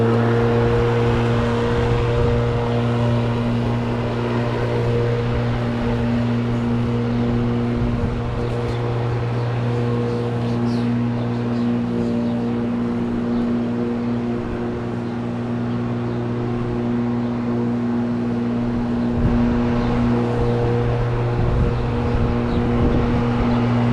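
A Ryobi 36v battery lawn mower cuts grass, its steady motor drone and blade whirr holding close and constant, with faint swishes of grass through the run.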